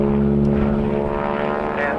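Propeller plane performing aerobatics at an air show at Matamata Airfield, its engine droning loud and steady with a strong harmonic hum that shifts in pitch near the end as the aircraft manoeuvres.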